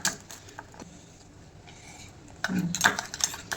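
Fish is mixed with spices in a bowl, soft scraping at first, then louder clinks and rattles of utensil against dish near the end.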